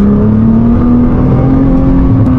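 Interior sound of a Nissan GT-R R35 in sport mode: a loud, steady, deep engine drone that rises slightly in pitch, continuous with no talking.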